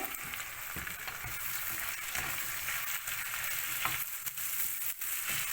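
Chicken thighs seasoned with salt simmer and sizzle in a pan, a steady bubbling fry noise running throughout with occasional stirring clicks, close and moderately loud.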